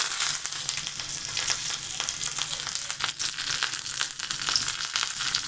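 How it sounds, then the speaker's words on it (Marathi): Mustard seeds and washed curry leaves hitting hot oil for amla chutney, a loud, crackling sizzle with dense spitting pops throughout, close and continuous. "मी आता तेल गरम केलेलं आहे, ह्यात घालते. कढीपत्ता पण घालते, थोडासा आहे धुतलेला."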